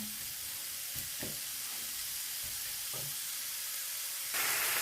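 Bacon and onions frying in a pan: a steady close sizzle with a few soft stirring knocks, the hiss swelling louder near the end.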